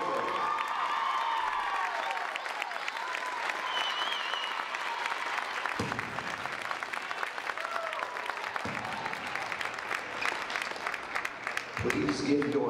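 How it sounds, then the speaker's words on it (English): Crowd applause and cheering for a senior volleyball player at a college senior day in a gym, a broad, sustained roar of clapping with whoops and shouts, fairly distant and steady throughout, with an announcer's voice heard early on. "Let's give a big round of applause to our senior,"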